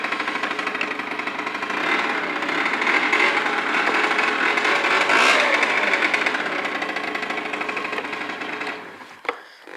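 A small Peugeot scooter engine runs close by with a steady, rapid buzzing drone that swells slightly midway before cutting down near the end, with no voices.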